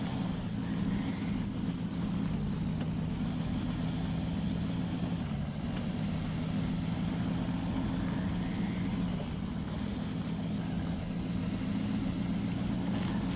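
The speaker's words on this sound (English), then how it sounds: "The audio is from a Duramax engine, so it sounds really good, and I've got the turbo sound in there as well." Duramax turbo-diesel engine sound from a Hummer H1 mod in the SnowRunner video game, a steady, loud low drone held at constant level throughout with no talk over it.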